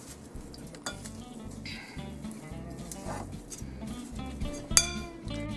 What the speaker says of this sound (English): I'm going to use the same 2 spoons here to just mix them well